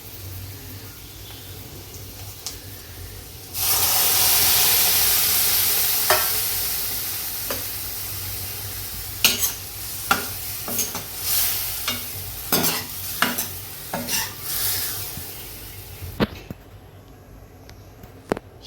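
Onion and spices sautéing with dal and spinach in a pan: quiet at first, then a loud burst of sizzling when ingredients hit the hot oil, followed by repeated scraping stirs and crackles until a final clatter.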